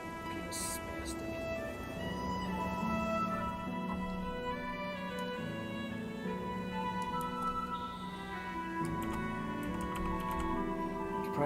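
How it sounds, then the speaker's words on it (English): A computer keyboard is typed on at a steady pace, with soft, quick clicks beneath sustained musical tones from a Guild Wars 2 game session. "You can probably also hear my other keyboard, just my other PC"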